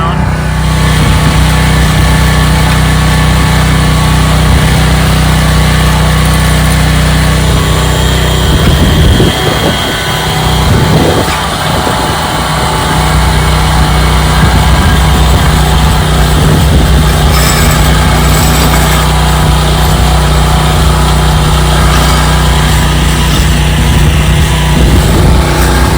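A low voltage wire trencher's engine runs loud and steady close by throughout while it cuts a trench in a large yard for an in-ground dog fence, with a brief dip in the drone partway through.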